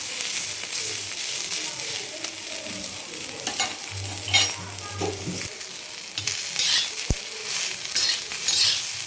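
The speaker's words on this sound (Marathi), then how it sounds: "तर अशा पद्धतीनं आपण" Cluster beans sautéing on a tawa give a steady sizzle, with intermittent scraping and stirring and one sharp clink of a utensil against the pan, close and continuous throughout.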